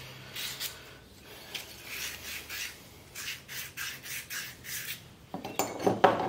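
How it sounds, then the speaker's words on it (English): Sandpaper rubbed by hand over pipe fitting pieces for a radiant floor heating system, making a series of short, rhythmic scratchy strokes, close and moderately loud, ending in a brief clatter. "We're going to sand them out just a little bit, just kind of roughen them up."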